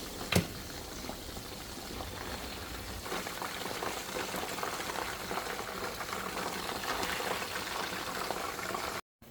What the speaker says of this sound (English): So I have the water going for the rice. I just put salt and butter in it.